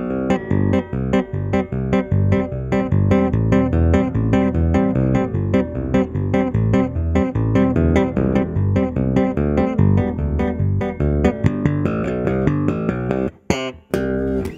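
Bass guitar tapping riff at around 144 beats per minute, a fast, dense run of loud, evenly spaced tapped notes lasting about thirteen seconds, with a brief break near the end and no talking.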